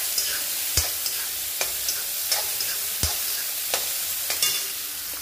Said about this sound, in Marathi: 2 मीडियम साईजचे मी कांदे घेतले ते ऍड करतोय आपण. कांदा व्यवस्थित भाजून घ्यायचा.